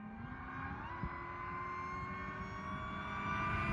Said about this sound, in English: Yeah, supercharger just crying.